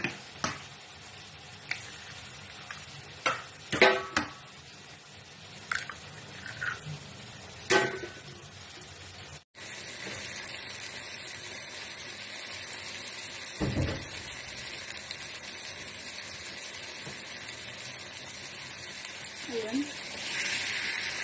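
Three eggs with tomatoes fry in oil in a pan. Scattered clicks and utensil taps come first, then a steady, close hiss of sizzling that carries on with small pops.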